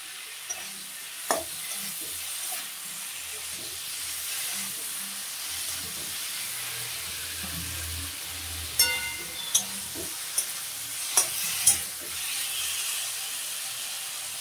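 Okra frying with boiled potatoes in a pan, a low steady sizzle with occasional stirring scrapes and a few sharp utensil clicks.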